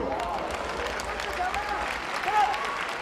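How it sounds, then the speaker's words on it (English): Wrestling crowd at a ring event applauding and cheering in a steady roar, with a commentator talking over it. "the audience really applauding this back and forth action"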